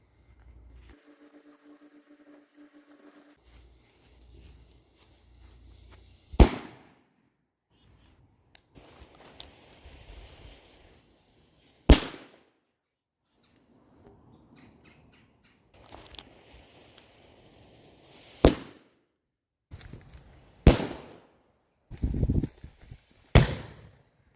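Firecrackers popping outdoors, a handful of sharp isolated bangs spaced several seconds apart with a quick cluster near the end, over faint rustling and quiet background noise.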